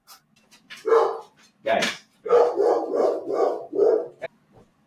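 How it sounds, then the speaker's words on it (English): Several dogs bark indoors in a home, a quick run of loud yips and barks, with a voice briefly speaking among them. "the dogs are barking"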